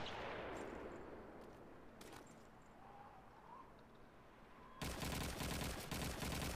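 Call of Duty 2 deathmatch gunfire comes in rapid crackling bursts. A faint, distant rattle early on is followed by a louder, sharper volley of repeated shots near the end.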